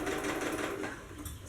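A sewing machine runs a steady, close, continuous whir as it sews a zigzag stitch down a fabric seam for a dance crop top.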